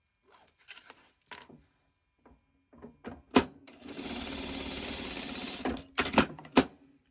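A sewing machine stitches diagonally across quilting fabric for a Christmas tree block, with short bursts of needle clatter, a sustained run of rapid stitching in the middle, and then a few more brief bursts.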